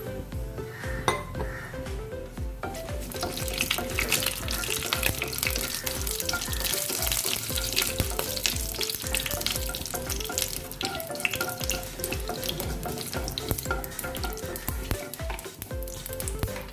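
Mustard seeds and urad dal fry in hot oil for a mango pachadi tempering. A loud, continuous crackle and sizzle runs throughout, with the clatter of a metal spoon or pan mixed in.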